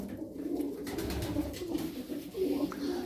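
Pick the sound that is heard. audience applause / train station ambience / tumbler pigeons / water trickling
tumbler pigeons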